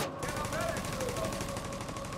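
Rapid automatic turret fire rattles in The Division 2, a fast steady stream of close, loud shots running continuously through the moment with a brief lull at the very start.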